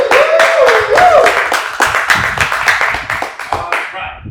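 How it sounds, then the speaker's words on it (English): Audience at a live hip-hop event in Los Angeles clapping in loud, uneven bursts, with a voice singing and talking over the first part. "Clap it up, make some noise."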